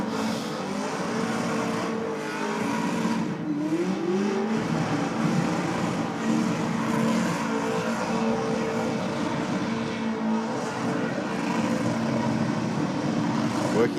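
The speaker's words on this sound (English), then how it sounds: "Big RPM on board. Instant smoke on the hit too" A race car engine held at high RPM, roaring in a steady, dense drone at moderate distance with slight rises and dips, as it would at a drag strip in top gear.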